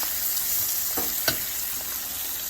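Peppers get stirred into onions frying in a pan, giving a loud, constant sizzle with a couple of soft scraping strokes from the stirring.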